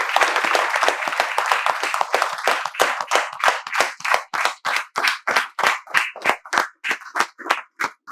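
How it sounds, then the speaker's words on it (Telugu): A group of students in a spoken English class clap together; dense overlapping clapping gradually thins into evenly spaced, crisp individual claps in a steady rhythm. "మేమందరం మీకు చప్పట్లతో స్వాగతం తెలియజేస్తున్నాం"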